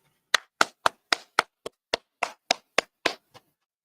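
Single pair of hands clapping during an online meeting, about a dozen crisp, evenly spaced claps in a quick steady rhythm, close and isolated against silence, the last one softer.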